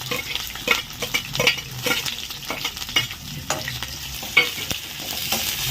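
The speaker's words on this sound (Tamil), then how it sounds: "இப்போ கட் பண்ணி வச்சுருக்க வெங்காயத்தை சேர்த்துடலாம்." Chopped onions, added to a pan after browned garlic, frying in oil with a steady soft sizzle, broken by repeated scraping stirs and clinks of a spoon against the pan, close and moderately quiet.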